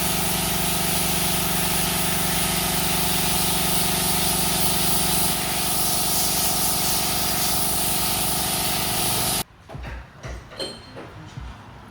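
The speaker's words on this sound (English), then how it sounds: "So I'm gonna go ahead and blow all this out of here before we put that back in." Compressed air blasts through the radiator of a 2017 Cadillac Escalade, clearing out cottonwood fluff: a loud, steady hiss for about nine seconds that cuts off abruptly, leaving quieter workshop noise.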